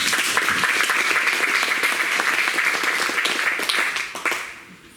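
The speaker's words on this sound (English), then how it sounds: "Let's give her a round of applause." Audience applause at a real estate mindset workshop, a steady dense wash of many hands clapping for about four seconds before thinning out and fading at the end.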